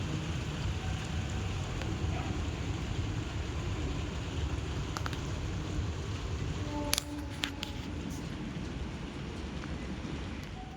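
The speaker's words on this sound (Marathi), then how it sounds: "असं विजांचा कडकडाट आणि ते चांगला पाऊस चालू झाला होता जोराचाच" Steady rain hisses at moderate distance, with a few sharp clicks and knocks standing out near the end.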